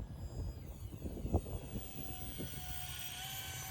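A small RC jet plane makes a slow pass in strong wind, its engine a faint, steady distant whine with a faintly shifting pitch beneath gusty wind noise.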